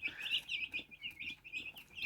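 Many small chicks cheep continuously in high, rapid peeps, close by and fairly soft, with no talking.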